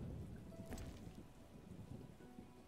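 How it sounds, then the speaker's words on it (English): Heavy rain pours steadily in The Witcher, a constant low wash of falling water with a brief brighter splash or crack near the start, no voices. "This is serious rain."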